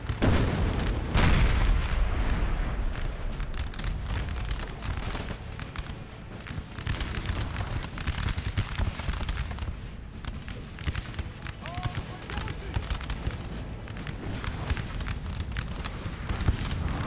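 Napoleonic-era artillery in Napoleon Total War during a mountain battle in Spain, a continuous rumbling din of cannon booms and battle noise throughout, fairly distant and dense rather than distinct single shots.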